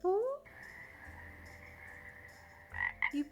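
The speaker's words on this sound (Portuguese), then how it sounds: "o sapo" A frog croaks in a steady, buzzing trill that runs for a few seconds, between a brief voice before it and short tonal sounds after.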